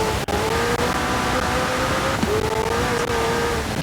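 A McLaren Senna hypercar engine in Forza Horizon 4, droning at a steady high pitch with smooth rises in revs and a brief drop and climb, heard up close with no talk.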